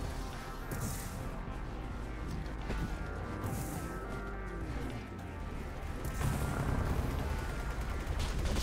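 Cannon fire in a video game booms in several heavy blasts spread across the stretch, over a rumbling low mechanical drone and busy game noise.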